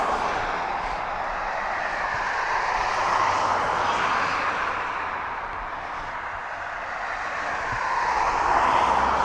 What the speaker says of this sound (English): It says Cessna 421C Golden Eagle.